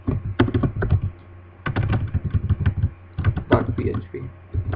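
Clattering computer keyboard keys type a file name in quick bursts with short pauses, close and fairly loud, without speech.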